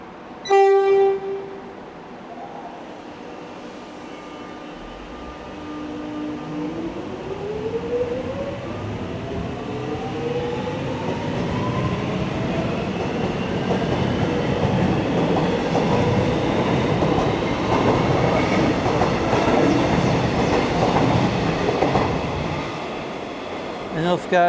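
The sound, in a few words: suburban train departing Box Hill station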